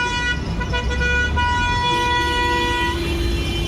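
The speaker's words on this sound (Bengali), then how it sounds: "এই যে আননেসেসারি হর্নটা বাজাচ্ছে" A vehicle horn toots repeatedly in steady traffic, loud and close over a continuous engine rumble and road noise, with no voices.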